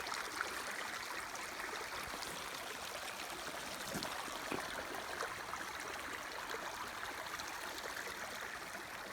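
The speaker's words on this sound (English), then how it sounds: "I believe this is a decent water flow." Creek water runs through a gold sluice at Cache Creek, a steady, soft trickling and gurgling wash with faint splashes, continuous and fairly quiet, with no talking.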